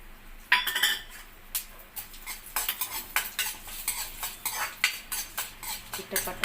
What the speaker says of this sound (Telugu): చిట్టపట్ట లాడే వరకు వేగించాలి ఆవాలు మాత్రం.